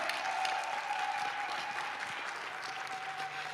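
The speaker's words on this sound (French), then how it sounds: "Je veux des acclamations pour lui." A church audience applauds for Jesus Christ at a priest's preaching event, with dense, steady clapping that fills the room, stays at an even volume and is not interrupted by talk.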